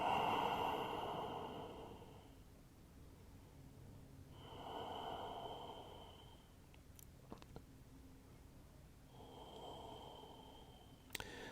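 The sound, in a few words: deep breathing during yoga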